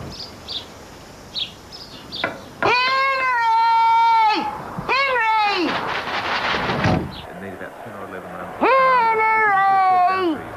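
A cat in a television cat food advert meows loudly several times, with long drawn-out calls and shorter ones between, over busy background music.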